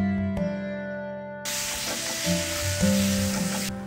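Tomatoes sizzle steadily in a hot pan, a bright hissing fry over a low humming background, with small stirring scrapes mixed in.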